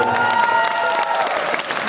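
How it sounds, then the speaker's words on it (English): An audience at a bodybuilding competition applauds the contestants, dense continuous clapping from a crowd that holds steady for the whole moment. "Let's give them a big round of applause,"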